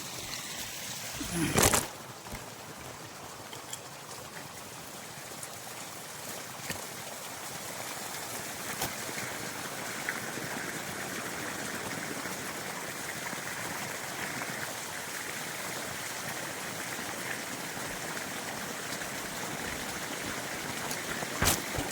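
Irrigation water running from a field pipeline makes a steady, even rushing flow throughout, with a brief louder splash or knock near the start.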